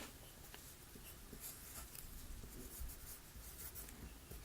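A pen drawing a diagram of cells, with faint, continuous scratchy strokes on the writing surface, quiet and close, with no talking.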